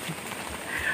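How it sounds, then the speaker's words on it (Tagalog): Heavy rain falls in a steady, close hiss on surfaces outdoors, filling the short moment with no talk. "Grabe ang ulan."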